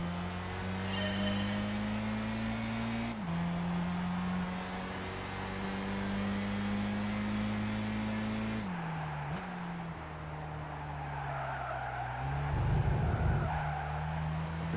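Car tires squeal steadily in Gran Turismo 5 as the car understeers straight on without turning, over a continuous engine drone, loud and sustained with shifts in pitch.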